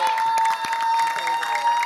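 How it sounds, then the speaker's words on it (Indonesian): Studio audience applause for both teams on a family game show, a brief burst of scattered clapping with a crowd murmur under it. "Tepuk tangan dulu dong untuk kedua tim."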